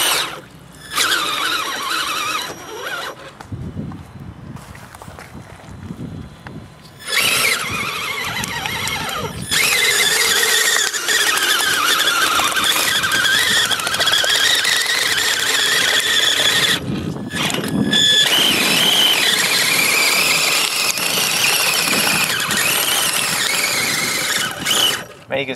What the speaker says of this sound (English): And you can hear the track slipping.